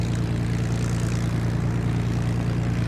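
Hawker Hurricane engine runs steadily at 1000 rpm during warm-up, a deep, even propeller drone with a pulsing low hum, loud and continuous without pause.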